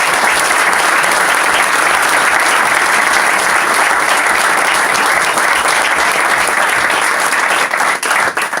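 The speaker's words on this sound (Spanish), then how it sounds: "Fuerte el aplauso para esta palabra." Loud, sustained applause from a large crowd at a political commemoration event, a dense, unbroken roar of clapping that stays strong and close throughout with no pause.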